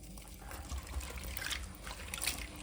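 A little water is poured into a pot of taro root for village-style cooking. It gives a soft, close trickle and splash, faint, brief and even.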